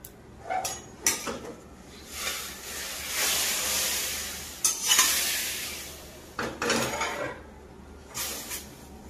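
A little water splashes into a hot pan used for making chitoi pitha, bursting into loud hissing sizzles that swell and fade, broken by scraping and stirring clatter of utensils.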